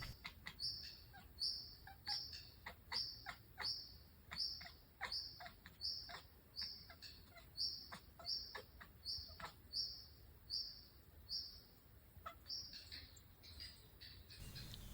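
Small birds nesting in a barn chirp and tweet in quick repeated bursts throughout, fairly faint and steady over a quiet background, with a high-pitched insect-like trill running beneath.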